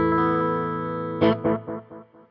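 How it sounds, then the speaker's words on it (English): An electric guitar runs through a NUX analog delay pedal: a sustained, slightly distorted chord, then a struck chord whose repeats echo in about five fading, darker copies, loud and close with no voices. "It's really an analog style delay."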